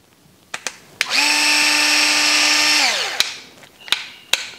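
A power driver drives an M3x10 screw into an RC car chassis skid plate, with one steady high whine lasting about two seconds that winds down, framed by sharp clicks and taps of handling.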